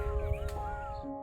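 A couple of crows caw in a quiet village field in the afternoon, where a tractor ploughs nearby; a single harsh call rings out close over low rumbling background noise.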